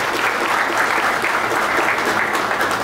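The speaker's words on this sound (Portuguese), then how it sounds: "Pode aplaudir." An audience at a São Paulo state government event applauds a Military Police colonel, a dense, even roar of many hands clapping at once, loud and continuous throughout.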